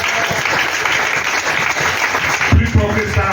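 A church congregation bursts into sustained applause during a worship service, a dense wash of clapping that swells briefly near the end, with voices mixed into the noise.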